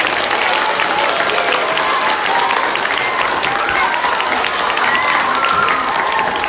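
Sustained applause from a crowd, loud and steady throughout with dense clapping and no pauses.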